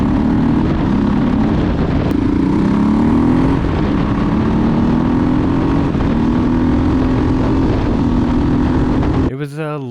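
An adventure motorcycle engine while riding, a loud, steady droning hum with slow rises and falls in pitch, wind-buffeted and close, cutting off abruptly at the end.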